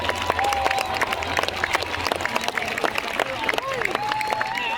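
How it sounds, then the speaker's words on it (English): Outdoor crowd applauding bagpipers at a world record gathering in Melbourne's Federation Square, a steady wash of clapping and cheering with some crowd chatter throughout. "let's give them another round of applause, please"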